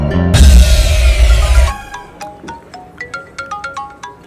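A mobile phone ringtone plays loudly and alone, opening with a sustained tone and then a quick run of bright, repeated melodic beeps.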